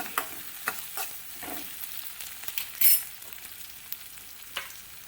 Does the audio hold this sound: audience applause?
no